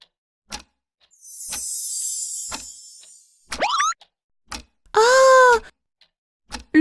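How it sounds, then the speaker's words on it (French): A cartoon cuckoo clock gives off a string of odd, springy sounds: sparse clicks, a long hissing whir, then rising boing-like twangs and a loud wavering cry, each burst separated by silence. "Le bruit vient du pendule à Coucou."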